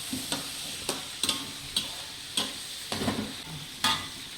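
Chicken fries in a pan with a steady soft sizzle, broken by about eight sharp clinks and scrapes of stirring that come at a fairly regular pace.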